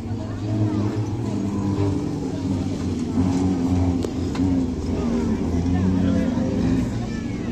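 Cars at a Ringwood Raceway banger race rumble and rev as one drifts around the track, a continuous mid-distance engine drone with crowd babble and talk layered over it.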